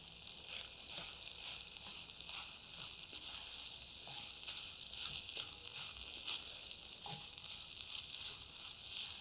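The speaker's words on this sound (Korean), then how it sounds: "마지막으로 썰어둔 고구마를 함께 볶아줍니다." Rice, mung beans and sweet potato stir-fry in ghee butter, producing a steady bright sizzle with frequent small scraping and stirring taps, moderately close and with no voices.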